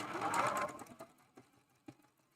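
A sewing machine stitching a quilt block runs in a fast, quiet whir that slows and stops, followed by a few soft mechanical clicks.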